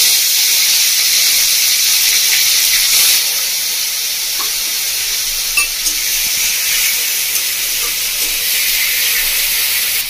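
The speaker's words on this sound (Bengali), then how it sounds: "আমি এবার দিয়ে দেবো মধ্যে কেটে রাখা টমেটো।" Chopped tomatoes hitting hot spiced oil in a pan for bhindi masala, a loud continuous sizzle and steam hiss close up, with no voices.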